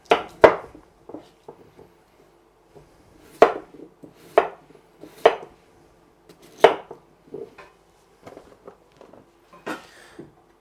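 A knife chops peeled potatoes on a cutting board for stamppot, sharp irregular thwacks in short bursts with pauses, close and clear with quiet between strokes.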